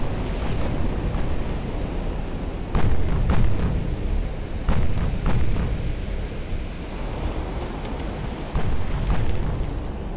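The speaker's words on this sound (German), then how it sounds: "Da kommen die nächsten Granaten." Naval artillery shells striking around warships in Ultimate Admiral Dreadnoughts, a series of heavy splashing impacts and rumbling bursts over a constant roar of sea and wind.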